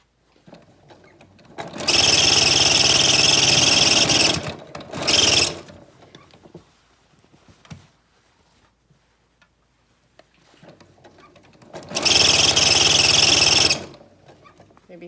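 A home sewing machine that needs oiling stitches a zipper into a qaspeq in two loud whirring runs of a few seconds each, with a short burst between and quiet handling noises in the pauses.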